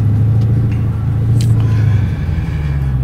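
A Dodge Challenger 392 Scat Pack Widebody muscle car in sport mode gives a loud, steady, deep engine rumble close by, with a slight rise in pitch toward the end.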